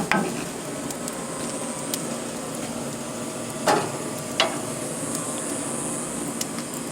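Potatoes slow-cooking in a pan over an open flame give a steady, close sizzle and hiss throughout, broken by a couple of brief clinks or pops.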